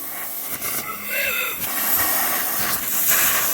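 Air rushes steadily out of the intake of a 1984 Honda CB700SC Nighthawk that has no compression, a close continuous hiss with faint tonal whistles drifting through it.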